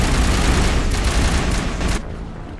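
Geth sniper fire in the Mass Effect video game: a dense, loud burst of rapid gunfire and booming impacts that runs continuously for about two seconds, then drops away to a quieter tail.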